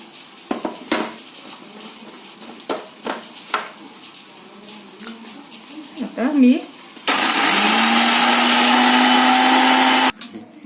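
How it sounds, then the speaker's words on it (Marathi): A kitchen mixer grinder blends peas, green chillies and coriander with a loud, steady whirring roar that lasts about three seconds and then cuts off sharply. Light clinks and taps of utensils come before it. "मिरची आणि कोथिंबीर मिक्सर मध्ये"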